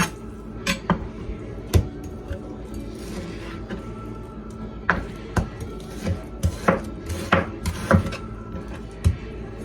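A knife trimming round steak into small cubes on a board, with a scatter of sharp, irregular chopping knocks, some in quick clusters, others spaced apart, close and clear over a quiet kitchen background.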